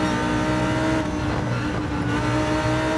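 A GT3 race car's engine roars steadily in the Gran Turismo 7 racing game, loud and continuous with a slight dip and recovery in pitch.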